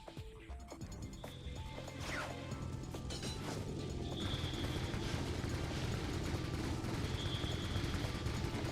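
Gun cannons fire in Ratchet & Clank on PS3, a dense run of booms and mechanical clatter mixed with game sound effects, fairly faint and continuous.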